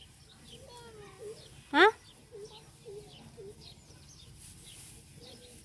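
Chicks cheep in short, high peeps scattered across the clip, with one louder, close sweeping chirp standing out among softer ones.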